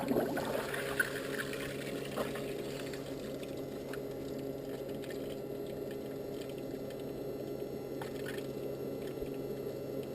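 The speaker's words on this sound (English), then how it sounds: "We've got water coming into the bucket." Water runs continuously into a bucket during a homemade fluid bed test, a steady, soft, wet splashing and gurgling that stays at an even level throughout.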